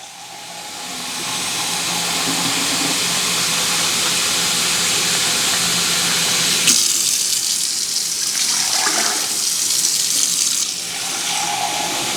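Water runs steadily from a tap into a pressure canner being filled for canning peppers, a loud continuous rushing hiss whose tone shifts partway through as the level rises, with no talking.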